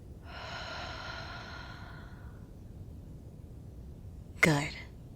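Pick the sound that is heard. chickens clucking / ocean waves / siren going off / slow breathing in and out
slow breathing in and out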